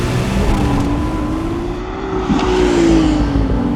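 A Ferrari 296 Speciale accelerates hard in race mode, its engine note climbing loud and close as it pulls through the gears, with a brief dip before the revs rise again.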